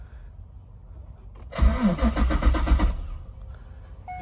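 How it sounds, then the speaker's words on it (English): A C5 Corvette Z06 engine cranked by the starter without firing to cycle oil, a loud close whirring crank lasting about a second and a half between quiet moments, with a brief word spoken. "we're just gonna cycle the engine right now. Get oil in the cylinders."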